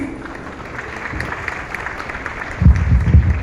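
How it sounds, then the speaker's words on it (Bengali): An audience at a felicitation ceremony claps in a steady, moderately loud wash that swells into a denser burst near the end, with no talk over it. "আপনারা একটু হাততালি দেবেন প্লিজ।"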